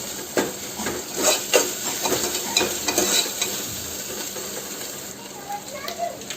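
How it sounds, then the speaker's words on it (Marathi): Sliced onions sizzling in hot oil in a pan while a spoon stirs them, a steady hiss broken by scraping strokes and clinks of utensil against metal, close and moderately loud, with faint talk at moments. "कांदे टाकून द्यायचे। त्याला पण खालतं वरतं करून घ्यायचे। कांद्याला पण छान होऊ द्यायचं तेलात"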